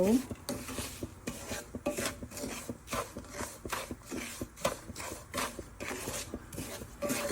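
Semolina frying in homemade ghee for halwa, stirred with a spatula that rasps against the pan in steady, repeated scraping strokes, close and moderately loud, with no one speaking.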